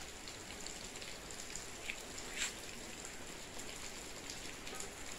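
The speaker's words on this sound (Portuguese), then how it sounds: "Tá chovendo muito. Muito mesmo" Steady heavy rain pouring down in Pernambuco, Brazil, a dense continuous hiss of drops with a few brighter splatters standing out, no voices.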